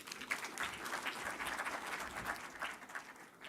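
Audience clapping at the launch of the NSE Market Place in a hall, a fairly soft, steady patter of many hands lasting a few seconds with no speech over it.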